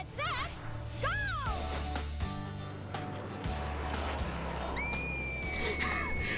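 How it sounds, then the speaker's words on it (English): A cartoon pony screams during a cart race, with shrill rising-and-falling shrieks near the start and a long high wail later, heard over busy music and other voices. "Why are you screaming?"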